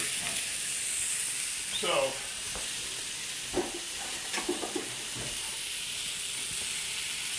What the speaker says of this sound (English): You hear that sizzle pop up.